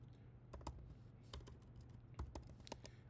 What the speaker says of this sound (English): Let me try typing in the command.